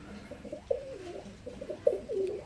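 Soft, low cooing from Teddy pigeons, a few separate throaty calls close by over quiet background noise.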